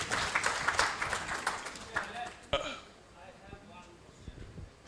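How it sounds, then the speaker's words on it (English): A round of applause from a symposium audience, many hands clapping briskly for about two seconds before fading into scattered claps, a cough and murmuring voices. "let's give MIFE a round of applause"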